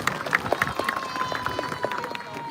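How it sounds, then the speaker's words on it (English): A small group claps in brisk, uneven bursts at close range, the sharp hand strikes repeating for a couple of seconds with a faint steady tone behind them. "Give him a round of applause"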